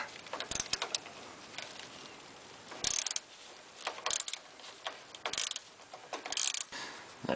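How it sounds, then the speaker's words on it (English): A ratchet wrench clicks in quick bursts while loosening the fuel filter bracket bolt on a 1993 Dodge Dakota with a 3.9L engine, close and fairly quiet, with short pauses between runs of clicks. "next you're going to want to take this bolt out right here, which is a 5/16."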